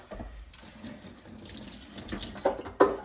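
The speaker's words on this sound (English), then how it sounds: "Now cooking, just rinse my hands." Water runs steadily from a kitchen tap as hands are rinsed beneath it during turkey crown preparation, a close, continuous splash that grows slightly louder toward the end.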